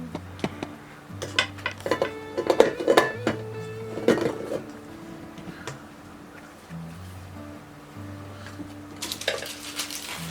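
Chopped Andes mints go into mint cookie dough in a bowl, bringing a scatter of clinks and light knocks in a brief busy burst, then quieter handling over a soft steady background with no voices.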